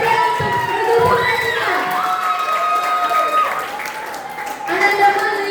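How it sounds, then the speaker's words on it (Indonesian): Applause and cheering from a crowd for boys' team 3 at an Al Falah Fest Quran recitation contest, a steady roar of clapping with children's shouts, holding for several seconds with a slight dip midway before swelling again. "Mari Regu Putra 3 berikan aplaus yang meriah untuk Regu Putra"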